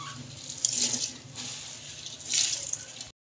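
Water splashes and pours into a cooking pot of rice for biryani in two short bursts, close by, with quiet clinking between them.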